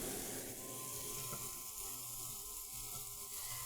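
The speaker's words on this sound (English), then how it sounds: "we're just gonna cook off our bacon bits here" Bacon bits frying in a pan on an induction burner, a soft continuous sizzle and hiss, fairly quiet and steady throughout with no voices.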